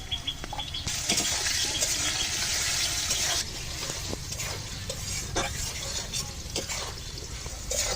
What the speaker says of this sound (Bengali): আলু তো ভালো ভেজে নিলাম।